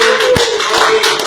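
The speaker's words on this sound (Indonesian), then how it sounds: "Tepuk tangan dulu buat bupati kita." Applause from an audience at a stand-up comedy show in honor of the regent, a short dense burst of clapping heard up close and on its own.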